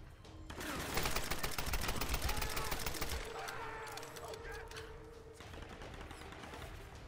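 Tomb Raider gunshots: sustained rapid automatic fire rattling steadily for several seconds, fairly dense and even, with a voice speaking faintly under it.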